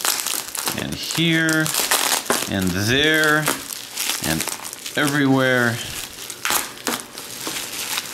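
Firmly packed cardboard and plastic packaging being cut open and pulled apart, crinkling and crunching in close bursts under a person talking.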